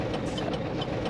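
A semi-truck's diesel engine idles close by with a steady low rumble and slight knock, continuous and fairly loud.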